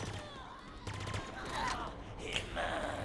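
Gunfire bursts from the Halo Infinite campaign, a rapid fusillade of shots at moderate distance in the game, brief and mixed with other combat noise.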